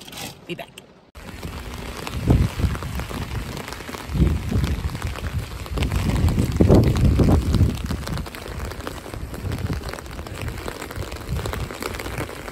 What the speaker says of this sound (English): You can hear the rain hitting like crazy.